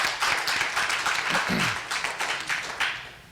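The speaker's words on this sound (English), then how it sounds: "Let's give the dean a round of applause, please" Audience applause at a school gathering honoring the dean, a steady wash of many hands clapping at moderate volume, with a few voices briefly rising through it.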